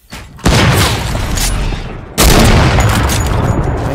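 Heavy booming gunshots and blasts in the video game Fortnite, two loud dense bursts with a sharp onset, the second one louder, filling the clip with rumbling noise.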